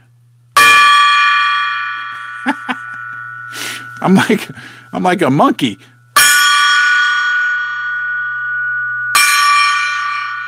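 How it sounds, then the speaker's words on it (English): A gong struck three times rings out loud with long, shimmering sustains that decay slowly, with brief talk and vocal noises between strikes. "Let's ring the gong."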